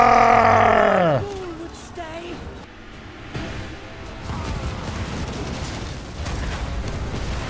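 Explosions and battle din from the video game Total War: Warhammer 3 rumble and crackle continuously at moderate level, following a descending whistle-like tone at the start.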